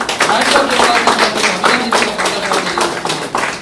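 An audience at a hospital opening in Madhapur applauds the doctors: dense, steady clapping from many hands, loud and close, lasting throughout with a few heavier claps standing out.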